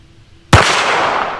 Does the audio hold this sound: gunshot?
yes